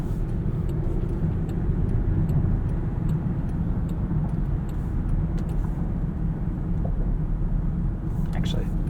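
A 2023 Range Rover P530 SE LWB seven-seater's 4.4-liter V8 hums low and steady from inside the cabin while driving, a smooth, subdued rumble with road noise that stays even throughout.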